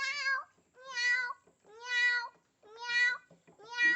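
A voice imitates a cat, giving five drawn-out meows in a steady rhythm with brief pauses between them.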